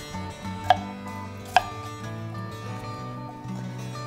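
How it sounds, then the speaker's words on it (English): Two sharp knife strikes chop apples into chunks on a board, spaced about a second apart, loud and crisp over soft background music. "And then I just like to cut them in chunks."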